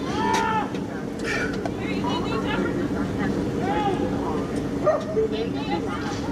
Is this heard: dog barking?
yes